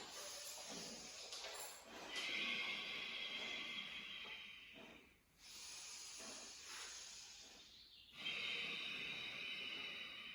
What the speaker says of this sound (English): you might find your oceanic breath, your ujjayi breath